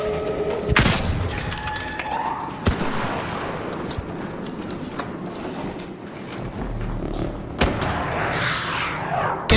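Grenade blasts in ARC Raiders, a swampy combat scene with sharp booms and scattered gunfire, several loud impacts standing out over a continuous rumbling background.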